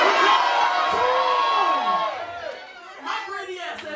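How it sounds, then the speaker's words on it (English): A concert crowd at Schubas screams together on a count, a loud burst of many voices shouting and cheering that slowly fades, with a few scattered whoops near the end. "Scream what you want in 2020, just scream it out loud."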